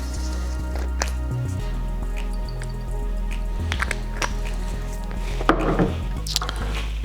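A whiskey drink with ice and bitters is stirred, giving close, scattered clinks and knocks of ice against glass, with a louder rattle near the end and no talking.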